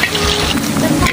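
Steak, chicken feet and eggs stir-fry together in a hot, oily pan, giving a loud, close, unbroken sizzle with scraping from the stirring.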